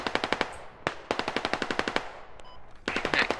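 Rapid AK and SKS rifle fire from the combat game Squad, in several tight bursts of sharp repeated shots with brief pauses between them, loud and close.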